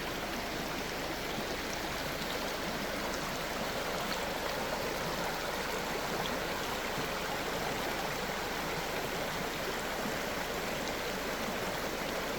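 River water flowing steadily through lush mountainous riverfront land near Nelspruit, a constant broadband rush that stays even and unbroken throughout with no voices.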